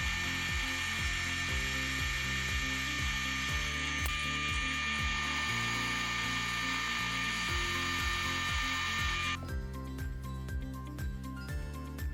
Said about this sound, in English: I need to drill and tap 2 holes on each side of the cross slide